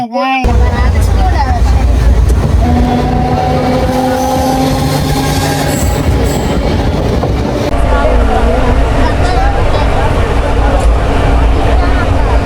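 Continuous rumble and rattle of a crowded moving passenger train from Chennai to Coimbatore with screeching wheel tones, loud and close throughout, with people talking over the noise.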